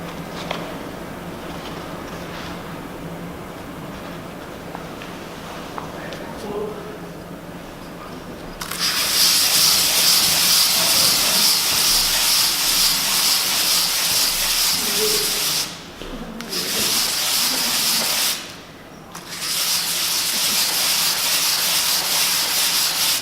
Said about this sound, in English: So I'm just circling the material on the sandpaper to level it off.